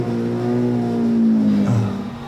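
A car engine revs and climbs in pitch as a learner driver presses the accelerator, a loud sustained drone that rises steadily and then drops off near the end.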